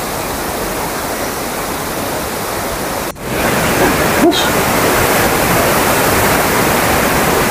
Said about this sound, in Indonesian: Ini dia air terjunnya.